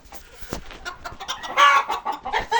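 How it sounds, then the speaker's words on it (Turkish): Chickens cluck in short bursts nearby, with a louder call from a white rooster rising partway through, against a busy farmyard background. "Şöyle beyaz horozumuz var burada."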